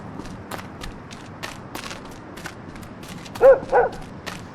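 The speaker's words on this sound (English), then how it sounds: "That dog almost scared me." A dog in a video game gives two quick barks close together near the end, rising over a low, steady game ambience of soft clicks and rustles.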